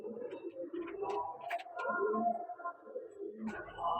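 Madrasi and Giribaj pigeons cooing in a loft, soft overlapping coos and murmurs close by, continuous and fairly quiet throughout, with no talk.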